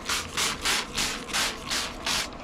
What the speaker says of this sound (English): Give it a good spritz